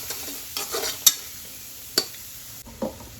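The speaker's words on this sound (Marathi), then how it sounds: "चांगलं मिक्स करून घेणार आहे." Spices for masale bhaat being stirred in a pan, a soft scraping and sizzling with a few sharp clinks of the spoon against the metal, close and fairly quiet.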